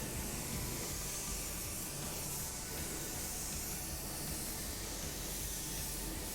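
Spray gun laying a heavier second coat of gray metallic automotive paint, a steady continuous hiss of atomized spray running unbroken and fairly close throughout, with no pauses or voices.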